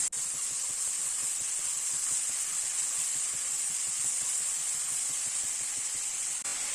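Onions with salt frying in a pan for chicken kurma, giving a steady, loud hiss of sizzling oil that holds evenly throughout, with faint stirring scrapes underneath.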